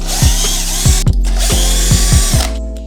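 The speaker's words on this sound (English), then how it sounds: "You can also use your hex key, but it's not as effective as an electrical screwdriver" An electric screwdriver whirs continuously at close range while backing hex screws out of an electric scooter rim, with six short clicking bursts at a regular pace before the motor stops.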